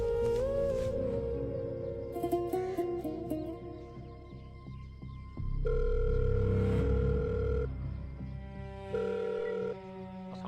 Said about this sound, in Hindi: मुंशी नंबर मिला एसएचओ दा।